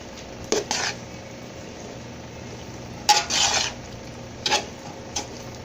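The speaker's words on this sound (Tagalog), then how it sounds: "Haluin natin." A spoon scrapes and rasps against a metal pan while stirring papaitan, short scraping strokes in scattered bursts with pauses between, close and crisp over a quiet background.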